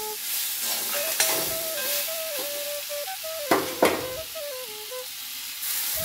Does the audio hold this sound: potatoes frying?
yes